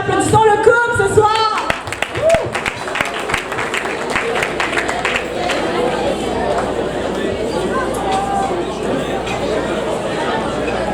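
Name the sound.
wedding guests applauding the couple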